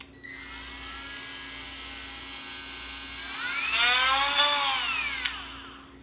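A Milwaukee M12 FUEL right angle die grinder runs steadily at close range, a high whining tone that climbs and shifts in pitch as it spins up, with a short sharp burst near the end and no talking.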